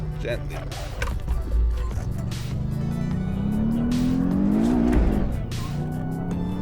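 A Porsche with an H-pattern manual gearbox accelerates on the road, its engine note climbing steadily in pitch as it revs, heard from inside the car with voices talking over it.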